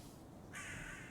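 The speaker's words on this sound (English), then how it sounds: "What are these crows doing here?" A crow caws once, sharp and harsh, in the video game Little Goody Two Shoes, heard over a faint, noisy background.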